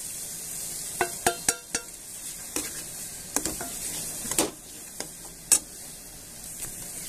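Turmeric, hing and red chili powder frying in a pan, a soft continuous sizzle broken by repeated sharp clicks and scrapes of stirring, close and moderately loud.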